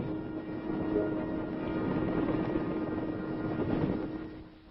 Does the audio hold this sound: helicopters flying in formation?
yes